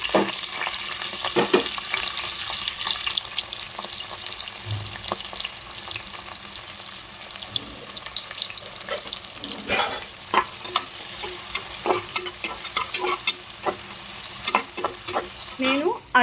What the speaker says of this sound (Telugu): దీంట్లో మనం ఉల్లిపాయ, పచ్చిమిరపకాయలు వేసేసుకుందాం.